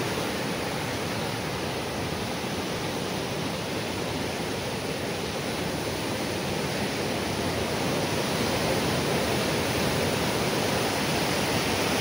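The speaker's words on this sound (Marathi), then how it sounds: "लाटा पण उंच इकडे उडत आहेत। आता भरतीचा जोर थोडा वाढलेला आहे।" Sea waves surge onto the shore at high tide where people fish with rods, a loud continuous roar of surf with no pauses and no talking.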